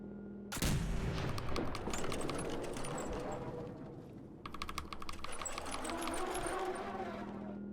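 Gunfire in the game Fallout 4, a burst of rapid shots erupting suddenly and continuing in dense overlapping volleys, with a brief lull midway before another stretch of sustained firing, loud and close.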